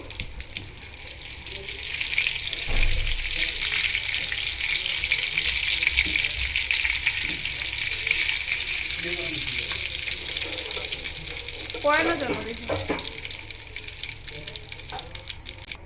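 Steady sizzling and crackling of food frying in hot oil until browned, with a few brief clinks and stirring sounds partway through.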